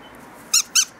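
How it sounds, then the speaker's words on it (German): A squeaky dog toy, a water toy that can be thrown and tugged, lets out two quick, loud high-pitched squeaks in close succession over faint background noise. "Es quietscht."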